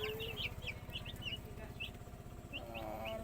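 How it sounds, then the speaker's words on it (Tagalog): Chicks peep in high, repeated chirps over a low, constant hum, with occasional fowl clucks and a brief flutter, close by and with no one speaking. "Ito po yung mga sisiw ko."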